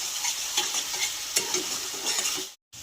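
Spices with Kashmiri chilli powder and sugar are stir-fried in a pan, with a continuous sizzle broken by scraping stirring strokes, then a brief drop to silence near the end.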